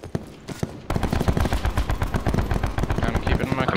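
Sustained rapid automatic gunfire in the video game Call of Duty Black Ops 4 Blackout, a dense, loud rattle of shots that kicks in after a few sparse opening cracks and keeps going.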